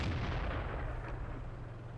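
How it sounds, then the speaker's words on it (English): Heavy rumbling cannon fire from a tank in World of Tanks, a deep booming blast with a low sustained roar that fades slowly, with no talking. "that's the sound of the cannon that that thing makes"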